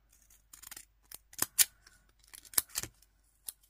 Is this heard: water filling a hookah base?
no